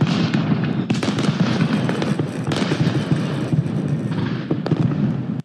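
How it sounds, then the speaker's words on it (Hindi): Continuous crackling and popping of a fireworks display at a Guru Nanak birthday celebration at Governor House, Karachi, dense bursts and bangs overlapping throughout with no pause. "इस मौके पर शानदार आतिशबाजी का मुजाहरा किया गया"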